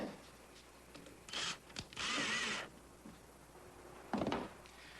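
A single screw is driven into the skin of a small homebuilt sailboat with a power drill, heard as two short bursts of motor whine, then a brief closing burst near the end, with quiet pauses between.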